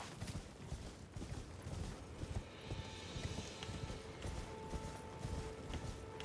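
Rhythmic clip-clop of a horse's hooves galloping across open ground in Elden Ring, a steady quick beat continuing throughout at low volume with faint background ambience.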